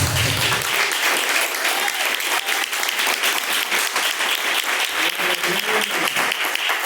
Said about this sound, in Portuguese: pode se assentar e louvar o nome do Senhor com as palmas bem alegres para Jesus